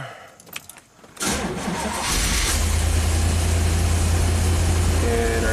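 A classic Corvette's engine cranks and catches after a few faint clicks and rattles, then settles into a loud, steady idle heard close up.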